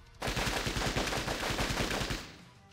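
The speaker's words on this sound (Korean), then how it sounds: "총성입니다." Sustained burst of rapid automatic gunfire in the video game Closers, loud and continuous for about two seconds with a steady rattling rhythm, then fading out.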